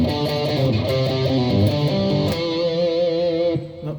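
A riff played on electric guitar, a brisk run of picked diatonic notes in steady rhythm, ringing out on a final sustained note before cutting off, close and clear with no talk.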